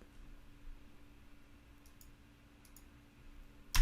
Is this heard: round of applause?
no